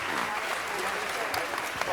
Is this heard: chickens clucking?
no